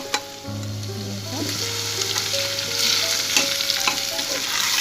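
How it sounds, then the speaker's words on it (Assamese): Steady sizzling of moong dal frying in a wok, with scraping stirs and light clinks of a utensil against the metal. "আৰু ধুনীয়াকৈ লৰাই ল'ম এইখিনি"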